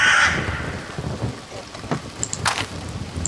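Crows cawing in a video game, several harsh calls over a steady wash of rain-like ambient noise, moderately loud and without speech.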